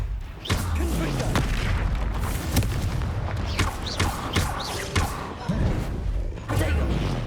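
Confringo explosive spells in Hogwarts Legacy go off as repeated booming blasts and heavy thuds amid dense combat, loud and close, with a voice calling out over them.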